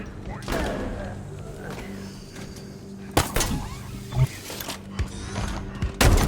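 Gunfire during a Halo Infinite Legendary firefight: sharp, loud shots burst out in separate volleys over a rumbling battle background, with voices in between.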